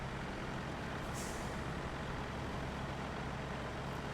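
Heavy truck rolling along an improved dirt road in a snow-driving video game, a steady broadband engine and road rumble running without a break from start to finish, moderately loud with no talk.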